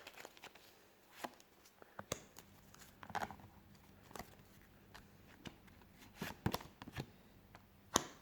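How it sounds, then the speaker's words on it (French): Tarot cards being covered and handled on a table, a quiet scatter of soft slaps, flicks and papery taps at irregular intervals, close by with no talking. "Je vais recouvrir les cartes pour avoir plus de précision."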